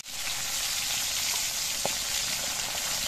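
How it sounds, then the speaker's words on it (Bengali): A fish head, from a snakehead fish, frying in hot mustard oil in a wok, giving a steady close sizzle with a few small pops and spatters, no voices. "এবার এই তেলের মধ্যে দিয়ে আমি মাছের মাথাটা ভেজে নিচ্ছি।"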